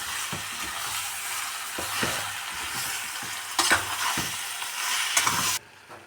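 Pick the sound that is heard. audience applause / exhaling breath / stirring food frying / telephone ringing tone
stirring food frying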